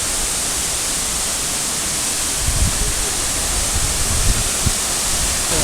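Waterfall at Twin Falls in Kalayaan, Laguna, a steady, loud broadband roar of falling water that fills the whole clip without pause, with a few faint low knocks underneath and no talking.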